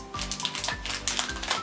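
Typing on a MacBook Pro Magic Keyboard, with a rapid run of close, soft key clicks and taps in an uneven rhythm.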